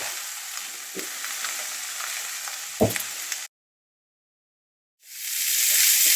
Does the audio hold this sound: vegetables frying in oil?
yes